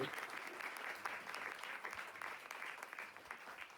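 Steady applause from a church congregation, dense clapping that carries on at an even level throughout, fairly distant and soft.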